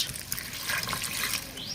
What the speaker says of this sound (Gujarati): પાણી ઉમેરીશું જેના કારણે આપણું શાક વ્યવસ્થિત રીતે બફાઈ જાય